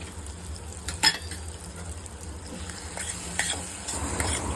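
Malvani coconut masala paste being stirred into frying masala with oil in a pan for a wet cashew curry, with a close sizzle, sharp spoon scrapes on the metal and a few clinks.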